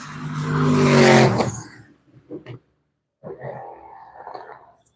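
A GB3 race car at pre-season trackside testing roars past close by. The engine tone swells and fades within a second or two, followed by near silence and a few faint, brief sounds.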